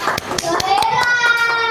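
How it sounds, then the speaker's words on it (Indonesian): Applause from a class of students in an Islamic religious education teacher-training lesson, a burst of sharp, fairly even hand claps from a group for one team, close and lively, with children's voices faintly mixed in. "tepuk tangan untuk kelompok 3"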